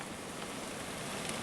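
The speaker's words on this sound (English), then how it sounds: "Looks like it's starting to rain or something now." Icy precipitation falls during a blizzard, a dense steady patter of hard grains across a short stretch, fairly faint and with no voices.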